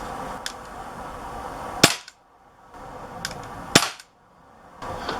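Sharp pellet shots from an Umarex Walther PPQ .177 CO2 pistol, two loud cracks about two seconds apart, each with a short hiss and clack, over a faint background.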